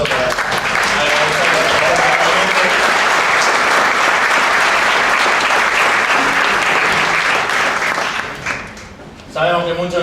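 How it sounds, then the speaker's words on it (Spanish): Audience applause at a political talk on neoliberalism in Córdoba: loud, dense clapping sustained for about eight seconds, dipping briefly before a voice speaks over the tail. "con un gran aplauso"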